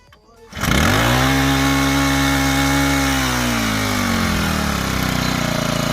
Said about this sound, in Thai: แล้วก็เร่งเครื่อง แล้วก็ทำการสตาร์ทได้เลยนะครับ